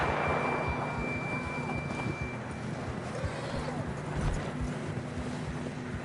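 Horse hooves clop and pound in a steady galloping rhythm in the game Red Dead Redemption 2, under a sustained high tone and a low background hum.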